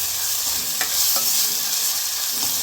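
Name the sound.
onions frying in oil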